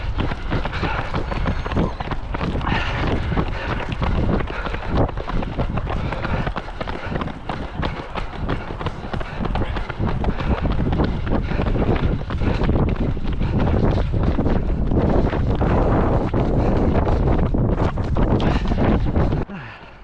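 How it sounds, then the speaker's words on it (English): Strong headwind buffets the microphone during a half-marathon run, a loud continuous roar of wind noise rumbling throughout with breathing and footfalls buried beneath, ending in a brief drop. "You obviously can hear in these clips now the wind is basically coming right against us"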